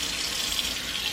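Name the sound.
warm water running from a tap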